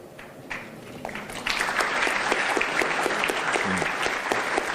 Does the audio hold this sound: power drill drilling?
no